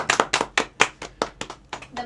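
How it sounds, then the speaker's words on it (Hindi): Audience clapping at the Miss Uttarakhand 2025 pageant, about ten distinct, fairly loud claps in an uneven rhythm, with a faint voice underneath. "तालियां इनके लिए भी।"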